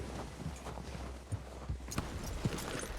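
Horse hooves clip-clopping in Red Dead Redemption 2, a steady walking gait of soft, close thuds over low background noise, with no talking.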